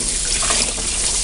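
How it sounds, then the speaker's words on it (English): Hose spraying water hard across the grooves of Gold Cube gold-mining mats to flush them out, a steady loud hiss of spraying water with no pauses or voices. "flush the mats out on their side like this, making sure that you spray right into all of those grooves"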